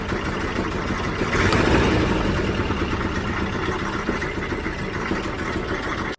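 A 1967 Volkswagen Type 3 Squareback engine runs steadily near the listener, its throttle blipped so the drone rises and thickens briefly before settling back to a continuous idle.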